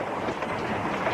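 A train rolling along rails gives a continuous broadband rumble and rattle, loud and steady for about a second with no voices.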